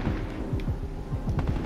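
Rapid, steady automatic gunfire from a weapon in the shooter video game Titanfall 2, a quick run of repeated low thumping shots at moderate volume, heard alone without talk.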